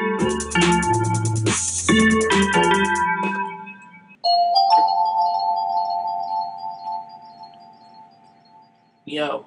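Several synthesized bell and chime tones are auditioned one after another while making a house-music beat, with a layered melodic pattern, then a single sustained bell tone held for several seconds before a brief burst at the end.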